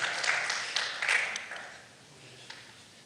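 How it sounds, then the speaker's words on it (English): Brief applause at a city council budget retreat in Schertz: a small group claps in a scattered patter that fades over a few seconds, with a stray clap near the end. "I feel like we owe you an applause."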